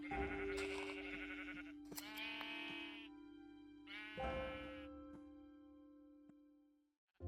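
Several sheep bleats from a Minecraft farm ring out loud and close, in three separate bursts with pauses between them, and a sustained tone runs underneath. No one speaks.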